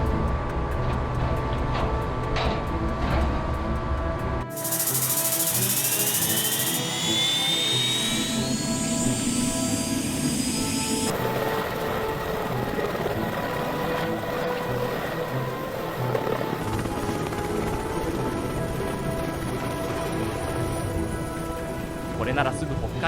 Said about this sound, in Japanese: ここに残されていた退避用ヘリを使用します。